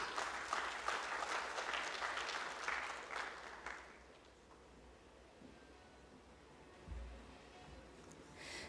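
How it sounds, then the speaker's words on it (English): Conference audience applauding a speaker on AI in manufacturing, a dense round of clapping that swells for about four seconds and then fades into quiet room tone, with a brief low thump near the end. "Audience, once again, let's hear a big round of applause for Dr. Ravi, Kumar and Debarshi Banerjee."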